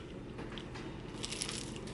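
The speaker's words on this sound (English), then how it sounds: "I like my quesadilla crunchy." Crunchy chipotle cheese quesadilla being bitten and chewed close up, a steady crackling crunch with a few louder crisp bites, no talking.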